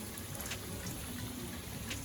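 Cold spring water with a herbal reputation flows steadily from a source at a mountain temple in Uttarakhand, a continuous close splashing gush with no voices.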